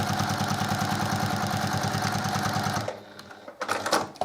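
A sewing machine with a walking foot stitches a quilt block in a fast, steady mechanical chatter that runs for almost three seconds, then stops and gives way to faint handling noises.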